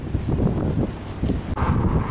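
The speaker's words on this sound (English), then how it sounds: "Very windy out." Gusts of wind buffet the microphone in a steady, low roaring rumble that swells and dips at Mill Creek Park in early morning, with no other sounds standing out.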